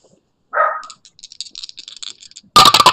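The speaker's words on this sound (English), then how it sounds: "Little dog." A little dog lets out a single sharp bark, followed by quick light tapping and rustling, then a loud burst of harsh noise at the end.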